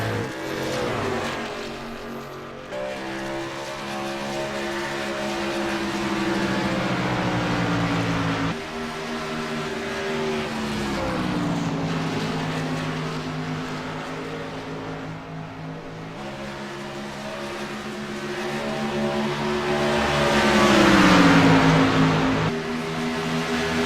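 Maximum Speed Racing League race trucks circle Darlington in 2013. Their engines drone loudly, with pitch rising and falling as they accelerate and pass through corners, and the laps repeat for over twenty seconds with no talk.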